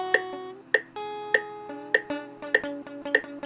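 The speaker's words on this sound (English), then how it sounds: "your fingers spilling over onto other strings and then muting them." Plucked guitar notes ring out in a steady rhythm, with neighboring strings dampened so the chords sound choked and slightly clipped, close and fairly quiet.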